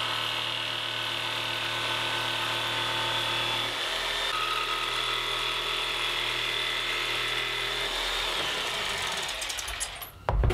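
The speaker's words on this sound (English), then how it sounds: "Now I'll just connect the dots using my jigsaw." Jigsaw cutting through a pine board for a crate, a steady loud buzzing whine that runs continuously for about ten seconds, then cuts off abruptly at the end.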